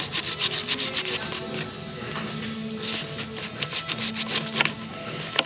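A knife blade saws and scrapes through the squeezed paper pleats of a cut-open engine oil filter, making a steady rough rubbing with repeated short strokes, close up and without talk.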